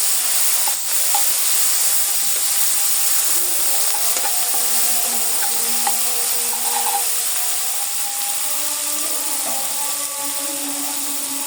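Cumin and coriander powder with spices fry and sizzle steadily in a pan for a Bengali rohu fish and cauliflower curry, with a spoon stirring and scraping through the constant hiss.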